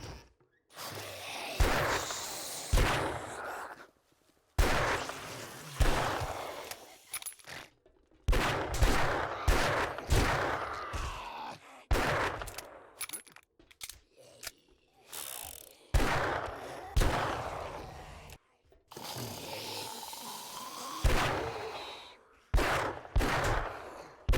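Gunfire in the modded survival game 7 Days To Die, a series of separate sharp shots and short bursts spread across the clip, some clustered rapidly, with brief silent gaps between them and no talking.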